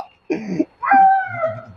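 A dog whimpers close by: a short whine, a pause, then a long high-pitched cry trailing into softer whines.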